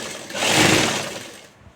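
A sewing machine stitching fabric for a salwar runs in one short burst, a close whirring hum that swells and then fades away in under two seconds.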